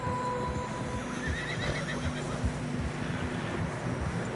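In the Red Dead Redemption 2 video game, horses on a snowy trail give a clear whinny and snort over a wintry wind bed, with soft hoof clip-clops and faint low voices underneath.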